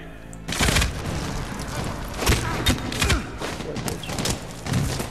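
Grenade blasts and gunfire in the Medal of Honor Warfighter combat game, several loud booming thuds spread across a busy battle soundscape with no pauses.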